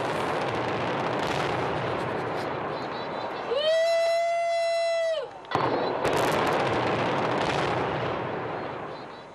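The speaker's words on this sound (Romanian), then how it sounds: "un pod renumit a fost distrus intenționat de către autorități" Explosive demolition of an old bridge in New York: a long, loud rumbling blast roll with crackling booms, a brief tonal siren or horn in the middle, then more rumbling as the structure comes down, with speech faintly under it.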